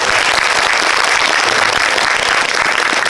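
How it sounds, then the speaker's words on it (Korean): Audience applause at a Korean film talk event with the cast and director of the movie Hanran, celebrating 24,000 viewers; dense, steady clapping fills the room loudly and continuously without a break. "축하의 박수 한번."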